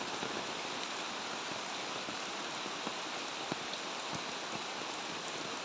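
Heavy rain pours down steadily, a dense even hiss with occasional louder drops pattering on a surface nearby.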